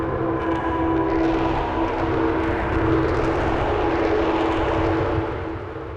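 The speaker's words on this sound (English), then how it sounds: "it creates this really nice atmosphere, this kind of alien solar wind" A dense, steady synthetic drone with a hissing, airy texture and a sustained tonal hum, like an eerie alien wind, holding level before easing off at the end.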